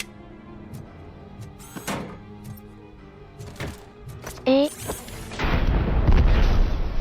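Explosions in the video game RoboCop: Rogue City, sharp blasts among scattered gunfire-like cracks, ending in a loud, lingering rumbling boom.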